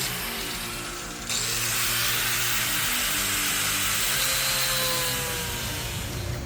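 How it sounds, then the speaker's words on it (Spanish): A power tool cuts through plastic trim beside an intercooler pipe on a Procharger LS 5.3L build, a loud, harsh buzzing whine that steps up in intensity after a second and runs steadily to the end. "puedo cortarlo, simplemente sacar este pequeño corte para que no quede cerca del caño aquí del intercooler"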